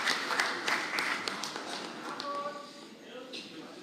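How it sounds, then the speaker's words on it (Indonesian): Audience applause at an Indonesian political party event announcing a vice-presidential candidate, a burst of clapping that fades over a few seconds, mixed with a voice on the sound system. "Kita berikan tepuk tangan yang meriah buat Pak Ganjar Pranowo dan Prof."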